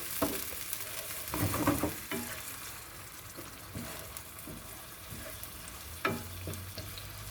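Onions and lemongrass cook gently over low heat for a salmon curry, a soft, quiet sizzle punctuated by occasional spoon scrapes and knocks against the pan.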